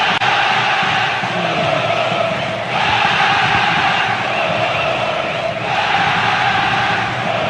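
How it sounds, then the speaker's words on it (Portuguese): Vasco fans chant loudly and continuously in a football stadium, a dense roaring mass of voices that swells in steady waves and fills the whole stretch. "Esse grito de Vasco arrepia."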